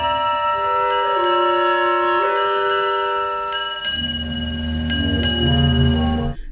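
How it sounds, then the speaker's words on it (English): A clock in a captain's room strikes bell-like chimes in quick pairs, like a ship's bells, the double strikes repeating several times over a soft sustained background. "The clock in the captain's room chimes in pairs,"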